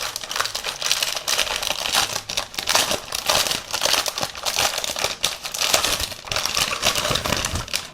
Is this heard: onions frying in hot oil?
no